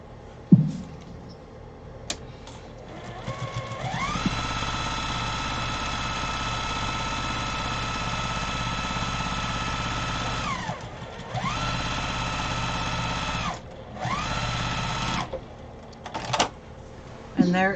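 A sewing machine top stitches a fabric briefcase with a steady mechanical whir running in long stretches, stopping briefly twice before starting again, with a person speaking at times.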